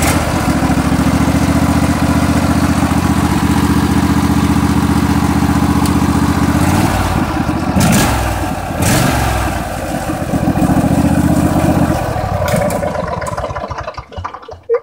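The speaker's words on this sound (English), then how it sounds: "It's actually the best sounding engine and the quietest engine I currently have as well." A small engine on a 2001 Craftsman LTX1000 riding lawn mower runs loud and close, chugging steadily, briefly revving and faltering midway, then settling back into a rough idle before cutting off.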